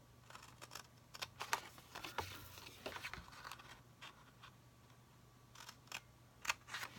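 Scissors cut through paper for a handmade gift card box, a series of quiet, close snips and crisp rustles in irregular bursts against a faint background hum.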